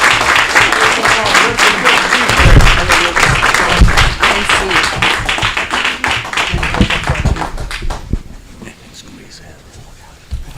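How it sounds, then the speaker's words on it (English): A city council meeting crowd gives a round of applause for firefighters, dense loud clapping with cheering voices mixed in, sustained for about eight seconds before thinning out and fading to quiet room tone. "round of applause for all of our firefighters."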